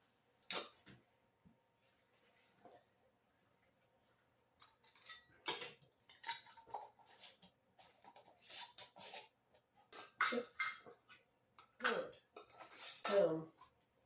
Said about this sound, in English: nothing left but to wipe the rims and put on the tops